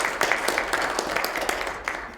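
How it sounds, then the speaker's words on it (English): Audience applause at a live industry panel session, a steady dense patter of clapping filling the room at moderate level with no voices over it. "So round of applause for them."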